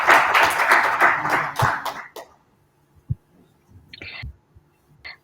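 An audience at an International Women's Day 2024 event applauding a speaker as she is welcomed: dense, lively clapping for about two seconds that stops abruptly, then a few faint taps and shuffles in a quiet room.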